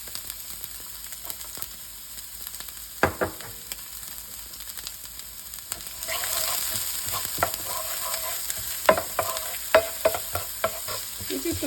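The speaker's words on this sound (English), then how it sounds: "saute the onion" Onion sautéing in a little oil in a pan for creamy shells and beef, a steady sizzle that swells louder midway, broken by scattered clinks and scrapes of stirring.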